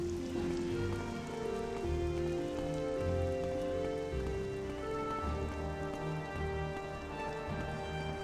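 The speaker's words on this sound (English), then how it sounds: "a little light rain in this environment doesn't look too bad" Light rain falls in the video game Morrowind, a continuous soft patter on surfaces layered over sustained musical tones, with no one speaking.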